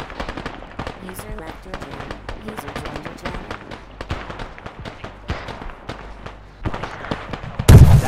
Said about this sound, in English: That's another rocket